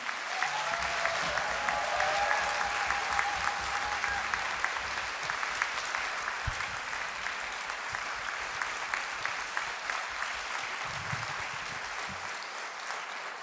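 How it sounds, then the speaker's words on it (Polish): A seated audience at a senior citizens' event applauds for a ninetieth birthday, with a long, steady, fairly distant roll of many hands clapping and a faint tonal sound and brief low thumps early on. "To są brawa na dziewięćdziesiątkę."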